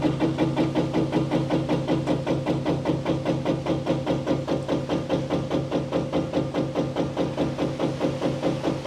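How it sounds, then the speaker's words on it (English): Steady engine running on a military LMTV truck during cab tilting, a continuous mid-pitched mechanical drone with a regular pulsing rhythm, close and loud throughout with no talking. "So now we should see the cab start to tilt."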